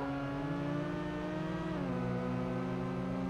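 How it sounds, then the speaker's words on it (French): Race car engines in the Need For Speed IV racing game drone steadily throughout, with a sustained harmonic whine that shifts pitch downward partway through as the car changes gear or speed, loud and alone. "Et les bruits de moteur qui sont tous différents entre les voitures aussi."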